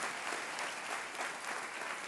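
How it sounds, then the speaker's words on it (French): An audience at a French youth political event applauds the organising team, a continuous spread of clapping that sounds rather distant and faint. "je veux qu'on les applaudisse"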